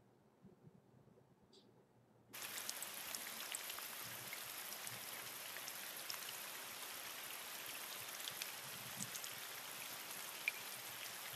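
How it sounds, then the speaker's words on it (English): Following a quiet opening, gentle rain starts up in a forest, a soft, even patter with scattered drips that continues at a low level throughout. "this is forest ambience light rain"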